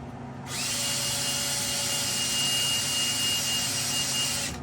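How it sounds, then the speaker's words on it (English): A Makita electric drill spinning a chucked bolt spins up and runs at a steady high-pitched whine for several seconds, close by, then cuts off. "chucked it up in my Makita drill"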